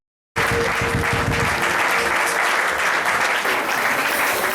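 A church congregation at an evangelical service bursts into loud, dense applause that starts abruptly after a brief silence and continues steadily to the end, many hands clapping together close by.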